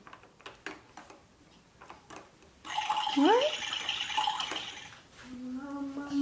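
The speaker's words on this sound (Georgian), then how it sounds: "წყალი გამოვიდა." A child's toy kitchen tap running water as an electronic effect, with soft clicks and then a bright rising tone and steady chiming hiss, followed by a held two-note tone, heard close with faint voices.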